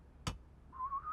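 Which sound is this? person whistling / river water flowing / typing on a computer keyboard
person whistling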